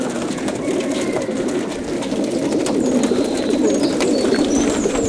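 Young pigeons cooing in a loft, a dense continuous chorus of low murmuring coos, close and loud, with faint higher chirps and calls scattered on top and no talk.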